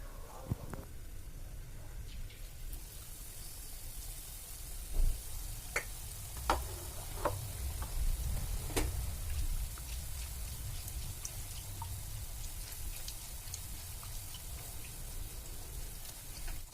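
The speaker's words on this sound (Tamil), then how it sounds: "இப்போது பழ நிரப்பை கடல மாவில் நினச்சி எண்ணெயில் விட்டுருங்க" Stuffed sweet banana bajji dipped in gram flour batter and frying in hot oil: a quiet, steady sizzle with scattered sharp pops and ticks, mostly near the start of the frying.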